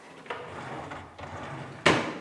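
Built-in wardrobe drawers in a house in Kuranda, Queensland, sliding open and shut: three distinct knocks and scrapes spaced about a second apart. The last one is the sharpest and loudest, close by in a quiet room.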